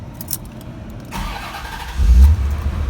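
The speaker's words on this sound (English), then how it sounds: "Car always starts straight up." A 1990 Chevrolet Corvette C4 cranks and catches, its engine firing up loud and close after a quiet moment inside the car, then settling into a steady idle.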